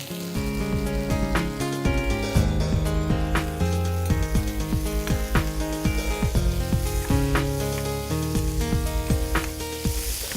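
Chopped vegetables and green onion hit a pan of sautéed garlic, giving a continuous loud sizzle with stirring, mixed under background music throughout.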